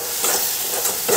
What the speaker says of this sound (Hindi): ये थोड़ा इसको मिला लेते हैं, इसको भी भून जाएंगे अच्छी तरह से।